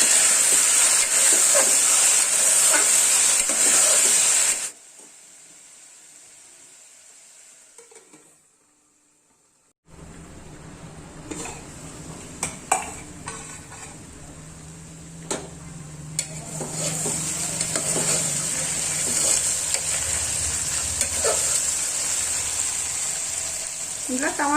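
Half a kilo of brinjals sizzling in hot oil in a pan, a steady bright hiss broken by a brief quiet gap, then resuming with light stirring clinks and scrapes.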